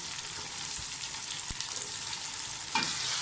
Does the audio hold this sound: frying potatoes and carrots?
yes